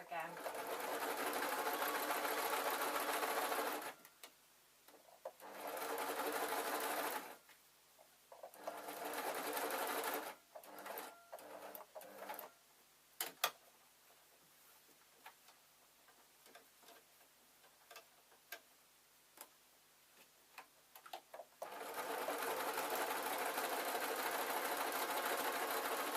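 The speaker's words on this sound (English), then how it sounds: "turning the square round and then sewing again, making sure that this is all flat" A sewing machine stitches fabric for a small pin tray, whirring in several bursts of rapid ticking stitches separated by pauses filled with faint handling clicks and soft rustles, close and clear.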